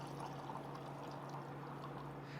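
Still water tap on a Natura water system running in a steady, close pour with a low hum underneath, continuous throughout with no voices.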